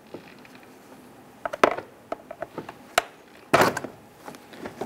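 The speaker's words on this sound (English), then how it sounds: "use our flathead screwdriver and just kind of lift up on the little tab right here. Pop this out and do the same for the back side." Plastic air intake tab on a 2008-2013 Nissan Rogue pried up with a flathead screwdriver, giving a handful of sharp, close clicks and snaps, with one louder popping crack near the end and no talking.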